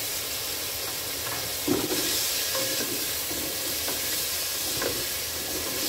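Onions with a pinch of salt sauté in a pan, giving a steady, fairly faint hiss of frying with a few soft stirring scrapes and no talk.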